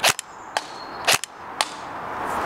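A Magpul gun fitted with a Mossfet trigger system fires several crisp, sharp single shots at uneven intervals, each a short, loud crack followed by quiet.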